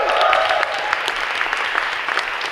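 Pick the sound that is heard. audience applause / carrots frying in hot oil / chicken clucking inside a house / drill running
audience applause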